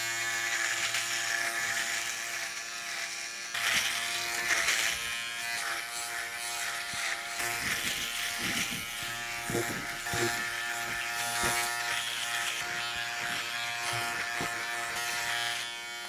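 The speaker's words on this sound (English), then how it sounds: "now let's try this mini shaver." A Kensen mini electric shaver buzzes steadily and close up while shaving, its high motor whine holding throughout with slight shifts in pitch and brief rougher patches as the head moves over hair.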